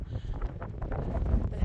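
Wind gusts buffet the microphone on an open hillside walk in the Ingram Valley, a continuous low rumbling roar with uneven surges, close and fairly loud.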